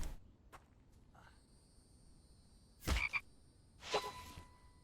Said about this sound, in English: Come here, frog.